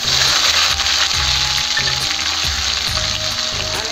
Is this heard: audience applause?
no